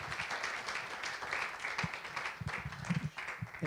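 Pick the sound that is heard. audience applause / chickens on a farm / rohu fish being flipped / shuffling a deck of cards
audience applause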